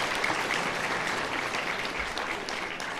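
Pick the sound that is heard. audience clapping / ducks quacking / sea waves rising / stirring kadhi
audience clapping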